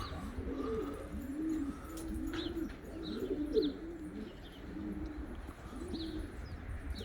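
Elvan fleet and carrier pigeons coo in repeated soft, throaty phrases, several birds overlapping close by, with a few faint chirps and light background noise.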